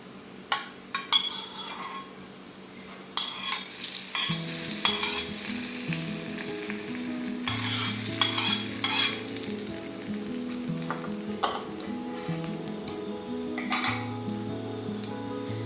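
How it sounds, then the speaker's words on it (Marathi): Hot oil tempering sizzles loudly and steadily as it is poured over raw tomato chutney, with clinks of a utensil and pan scrapes, but no talk. "आता ही खमंग फोडणी चटणीवरती टाकूया"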